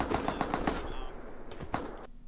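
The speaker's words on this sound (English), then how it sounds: "I'm turning on the turret." An automatic turret fires in a video game, a rapid burst of gunfire shots in quick succession, then a few scattered shots before the sound cuts off abruptly.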